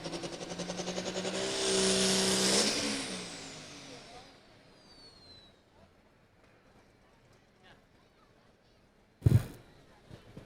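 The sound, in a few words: pulling tractor engine revving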